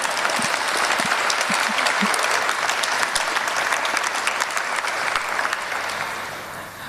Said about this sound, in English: a round of applause for that as well.